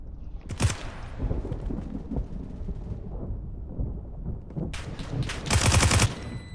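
Automatic weapon fire in the Roblox game AR2, driven by an autoclicker on a basic gun, comes as loud rapid bursts of shots with rumbling echoes, a short burst early and a heavier one near the end.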